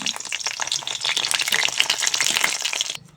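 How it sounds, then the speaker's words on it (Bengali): Chana dal fritters (bora) fry in hot oil, a dense close crackling sizzle with bursts of popping that cuts off abruptly near the end. "বাকি বড়াগুলো এভাবে ভেজে নেব।"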